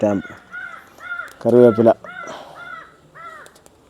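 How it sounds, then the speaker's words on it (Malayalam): House crows caw repeatedly near an outdoor spot where fish is being wrapped and grilled, several loud harsh calls in uneven bursts, overlapping a person talking. "ഈ കാക്ക ഭയങ്കര ശല്യമാണ്."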